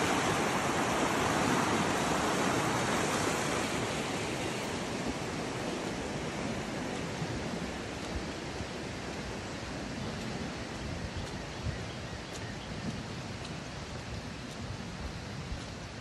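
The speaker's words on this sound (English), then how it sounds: "I'm guessing this is just Tinkle Creek." Creek water flows in a steady broadband rush. It is louder and fuller at first, then settles to an even, continuous wash heard alone with no voices.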